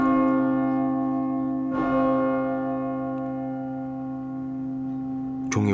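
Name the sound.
bell tolling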